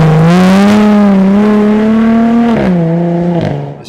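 Jaguar F-Type V6 sports car engine, loud and close while driving, a steady rising drone that holds, dips briefly, then climbs again before easing off, with no voices over it.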